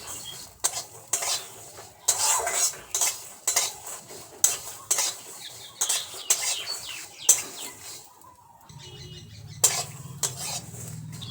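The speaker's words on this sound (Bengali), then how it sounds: "একটা কড়াই গরম করে তাতে সমস্ত উপকরণ দিয়ে একটু ভেজে নেব কোনো রকম তেল ছাড়াই" Garlic, black cumin and green chillies dry-roasting in a hot wok without oil, with repeated loud scraping and clinking strokes of a spatula against the metal and a soft crackle between them.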